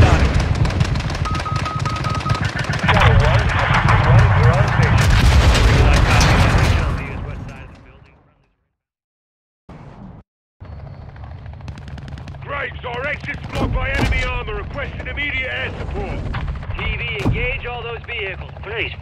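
Heavy gunfire and missile strikes in the video game Modern Warfare 2, with loud sustained bursts and booming impacts, a brief near-silent gap, then renewed rattling fire and shouted voices mixed in.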